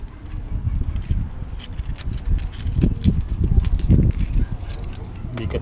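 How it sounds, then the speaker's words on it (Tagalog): Keys to a newly bought motorcycle jingle close by in a hand, light metallic clinks scattered through the clip over low-frequency rumble and handling noise. "Bigat ng susi natin."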